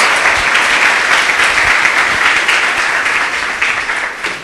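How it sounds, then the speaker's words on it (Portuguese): A church congregation applauding during a sermon, loud sustained clapping that fills the room steadily and tapers slightly toward the end, with no speech over it. "Palmas, isso, muitas palmas."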